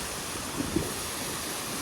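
Natural mountain water flowing along the Balakot to Naran Kaghan route, a steady close rush of water with constant broadband hiss and no voices.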